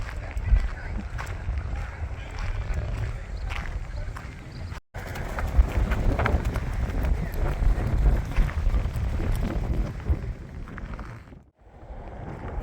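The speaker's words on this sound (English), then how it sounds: "Oh, this wind is terrible." Strong wind blows outdoors in the small town of Magdalena, New Mexico, a loud low rumble buffeting the microphone in gusts, with brief dropouts.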